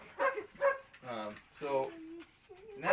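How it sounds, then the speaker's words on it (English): A dog barks repeatedly indoors, several close, loud barks and yips in an uneven rhythm with short gaps between them. "My dog's barking."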